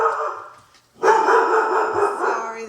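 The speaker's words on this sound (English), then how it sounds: "Sorry, there goes my dog." A pet dog indoors at home, near a kitchen where food is being mixed, lets out a short bark, pauses briefly, then gives a longer run of loud, whiny, close barking.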